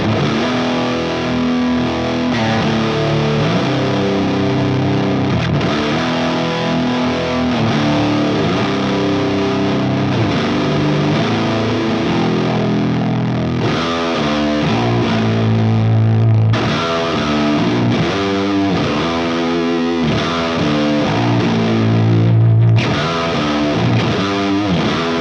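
Bass VI guitar with fuzz played through a Fractal high-power amp model on the bridge humbucker, giving a thick, saturated distorted riff that holds steady for about 25 seconds with chugging low notes and sustained chords, no talking.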